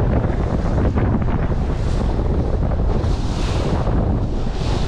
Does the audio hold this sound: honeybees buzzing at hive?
no